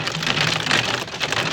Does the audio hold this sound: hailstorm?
yes